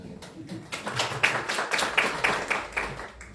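Scattered audience clapping at a tech summit, individual claps standing out sharply over a thin patter, fairly close and uneven.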